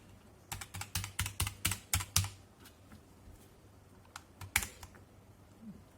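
Typing on a METOO Z56 mechanical keyboard with brown switches: a quick burst of about ten close, clacky keystrokes, a pause with light rustle, then a few more sharp presses.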